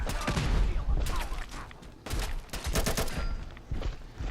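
A modded gun in Fallout 4 firing .308 rounds, rapid volleys of loud, close shots in several bursts with brief gaps between.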